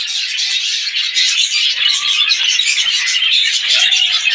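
Pet birds in a breeding cage, lutino and grey, chirping continuously in a busy overlapping chatter of high tweets, close and clear, with no talking.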